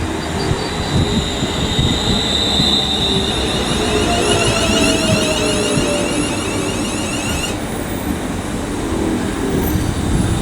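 A class 15119 passenger train pulls into Liverpool South Parkway on the West Coast Main Line, a loud continuous rumble of wheels on rails with a high whine that sounds for several seconds and then stops abruptly.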